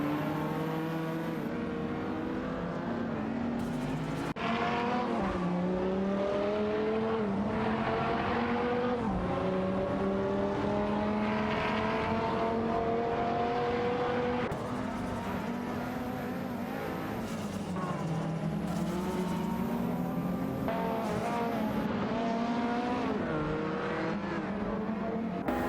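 Ferrari 512 TR race cars howl through a racing video game, engines rising and falling in pitch through gear changes as several cars run close together, loud and continuous with no voices.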